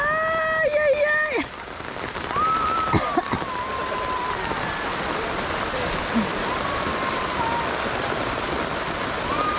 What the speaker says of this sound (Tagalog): Ay, bala naman ang ulan